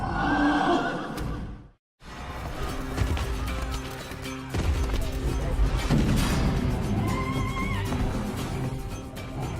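Wild horses whinny and neigh amid a busy, noisy rodeo scene with thumps and clatter, a brief silence near the start, then continuous loud commotion.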